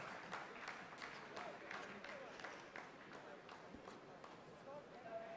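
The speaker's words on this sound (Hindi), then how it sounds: "आप इस तालियों के गड़गड़ाहट को सुन सकते हैं" ISRO scientists in the control room applauding a completed Chandrayaan-3 landing phase, faint sustained clapping with rapid overlapping claps, heard at low level without clear speech.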